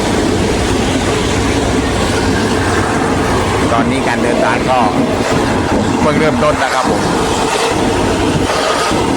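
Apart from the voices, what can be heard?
local train 447 running on rails, clickety-clack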